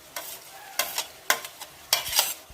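Chicken korma gravy being stirred in a pan in Kerala style, with a series of distinct scraping stirs at an irregular rhythm over a soft bubbling simmer, close and fairly quiet with no talking.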